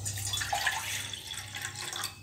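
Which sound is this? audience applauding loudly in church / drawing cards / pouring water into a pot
pouring water into a pot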